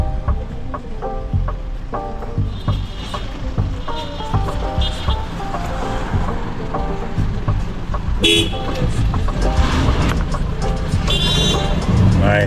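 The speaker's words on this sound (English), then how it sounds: "The traffic is backed up because of" Backed-up traffic on the Fern Gully road in Jamaica, with repeated car horn toots and honks of varied pitch over a steady rumble of idling engines, growing louder and busier toward the end.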